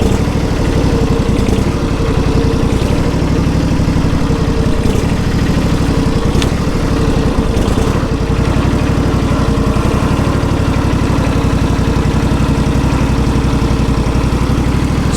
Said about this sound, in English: it surges a bit on like when idling